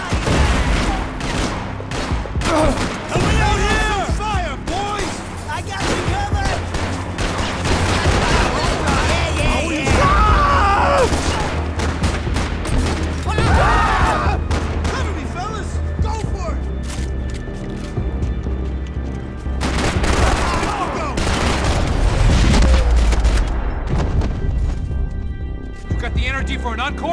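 Gunfire and crashing impacts in the Max Payne 3 video game, a busy firefight with bursts and smashing hits under frequent shouted speech and music throughout.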